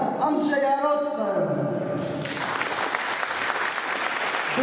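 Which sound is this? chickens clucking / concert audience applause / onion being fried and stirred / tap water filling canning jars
concert audience applause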